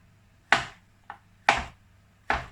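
A knife slicing a mushroom thinly on a cutting board for a whole wheat sourdough pizza, four sharp crisp chops spaced about a second apart, close and clear against a quiet background.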